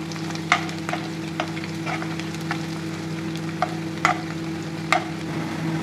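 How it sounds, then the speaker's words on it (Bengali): Mung dal and chicken gizzard frying in a pan, a steady low sizzle under sharp scrapes of a spatula stirring at irregular intervals, close and fairly loud, with no talk. "এই যে দেখো কি সুন্দরভাবে এগুলো ফ্রাই হইতেছে"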